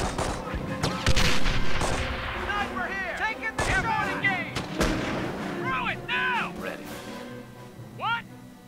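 Battle din from the Company of Heroes Normandy landing campaign near Vierville: repeated heavy artillery booms and crackling rifle and machine-gun fire, with shouted soldier voices calling out over the barrage.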